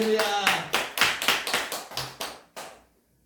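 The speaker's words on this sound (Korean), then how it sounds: "주님께 박수" A church congregation clapping during a Korean Wednesday worship service: about ten crisp, evenly spaced claps at roughly four per second, fading slightly before stopping.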